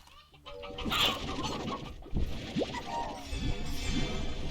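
Chickens cluck in the video game Slime Rancher, giving a run of short, clipped calls and squawks over a busy game soundscape with scattered sound effects.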